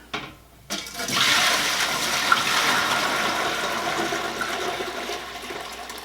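Pomegranate dye liquid poured from a container back into a pot during yarn dyeing, a steady loud gushing splash that starts after a brief pause and runs continuously to the end.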